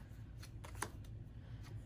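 A deck of Smash Up: Disney Edition cards is shuffled at a table, soft repeated riffling and flicking at low volume over a steady background hum.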